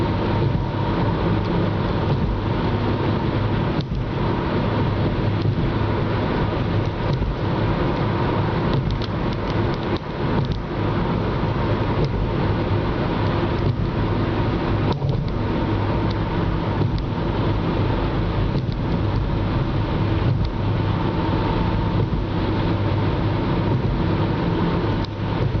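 A car crosses the Bay Bridge into the city, giving a steady, unbroken rumble of road and engine noise from inside the vehicle, with no voices.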